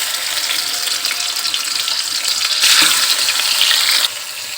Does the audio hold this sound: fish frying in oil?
yes